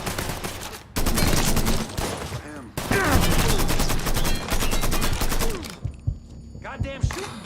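Dense bursts of gunfire crackle in a shooting gallery fight in the Mafia 3 video game, loud and close, with brief pauses and a few separate shots and clanks near the end.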